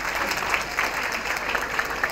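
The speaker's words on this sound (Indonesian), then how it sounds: "tepuk tangan dong" Audience applause at a Buddhist Dhamma talk, a dense, steady patter of many hands clapping together at moderate loudness for a couple of seconds.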